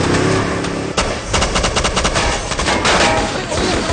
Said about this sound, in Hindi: तुम भी गोलियां चलाओ।